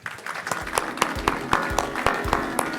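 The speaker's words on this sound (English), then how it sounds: "Please give a big round of applause." An audience at a business conference on digital identity gives a short burst of applause, with scattered, fairly distant clapping that holds steady for a few seconds.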